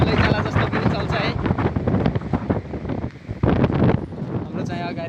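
Strong wind buffets the microphone outdoors, a dense continuous roar with gusting surges and a brief lull near the middle; talking can be heard over it.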